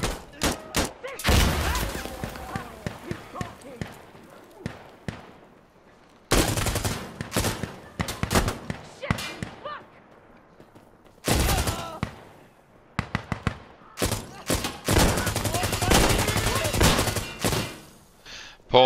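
Gunfire in the tactical shooter game Insurgency: Sandstorm comes in loud, close bursts of rapid automatic shots and single cracks, separated by short quiet gaps, with bits of voice chat between them.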